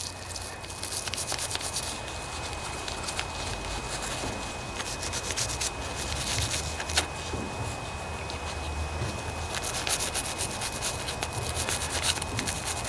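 Steady scrubbing and rubbing works rust off a part from a Craftsman riding lawnmower, a continuous gritty scraping at close range that runs on without pause.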